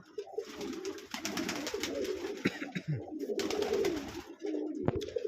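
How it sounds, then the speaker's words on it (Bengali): Large pigeons in a loft cooing close by, repeated deep throaty coos in a rolling rhythm with brief pauses, clear and near over faint background rustle. "একটু দেখেন বিষয়টা আপনাদের দেখাই জাস্ট ডাকটা একটু দেখেন"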